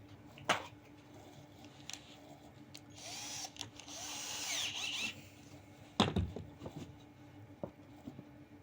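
An electric drill bores screw holes in a wooden beehive bottom board, heard as a short whining burst mid-clip among faint knocks and clatter in a quiet workshop.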